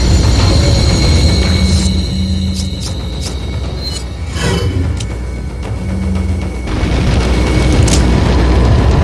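A grenade explosion in Resident Evil 4, loud and booming, with a rumbling blast mid-clip amid heavy game noise and mechanical sounds.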